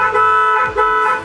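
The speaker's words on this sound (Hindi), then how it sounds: "क्रेटा वाला साउंड हॉर्न इसके अंदर लगा हुआ है" Hyundai Creta horn fitted to a Maruti Fronx Sigma: a loud, close, steady honk broken into a few short back-to-back blasts, with no talking.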